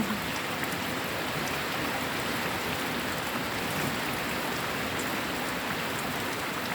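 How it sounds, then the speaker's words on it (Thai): Steady evening rain pours down in a dense, unbroken hiss, close and fairly loud, with no voices over it. "วันนี้ฝนมาไวมากๆเลยนะคะ"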